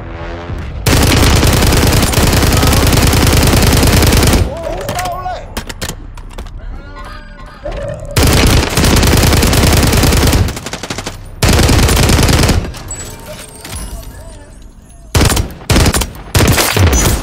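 Loud bursts of automatic gunfire from the Warzone video game, long sustained volleys broken by shorter gaps, with quieter stretches of scattered shots and background game noise, all close and dominant.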